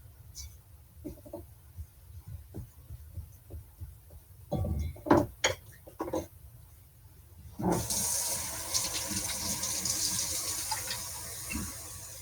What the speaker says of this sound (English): And 2/3 of a cup of warm water.